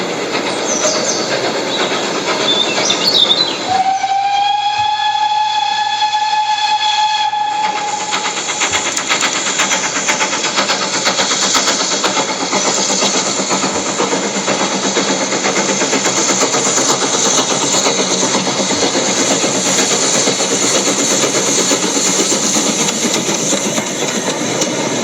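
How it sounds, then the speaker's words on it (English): A train rolls along the tracks. A sustained horn blast sounds near the start, then a steady rumble with faint rhythmic clatter of wheels continues at even loudness, with no voices. "He got on the train, and he rode and rode and rode."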